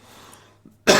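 A single hard, loud cough bursts out near the end after a quiet stretch with a faint throat sound, the harsh noisy blast filling the last moment.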